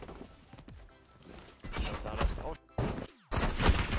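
Gunfire during a firefight in the video game Marauders, bursts of shots and sharp impacts at close range with loud clustered volleys, mixed with other game noise.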